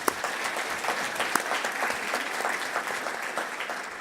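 An audience in a panel discussion on homelessness in Auckland claps steadily and fairly loudly for a panellist for about four seconds, with no talk over it.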